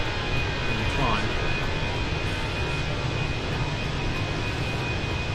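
Airbus A320 engines in Microsoft Flight Simulator 2020 roar at high throttle with a steady, dense jet drone and a faint whine, continuous and loud throughout.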